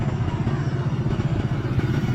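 Steady low engine drone of motorcycles moving along a rural roadside in An Giang, Vietnam, with a continuous rumble throughout and no distinct pass-by peak.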